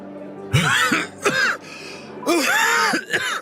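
An ill man coughing: three rough, throaty bursts, each a pair of hacking coughs with a raspy, voiced edge, close and loud, separated by short silences.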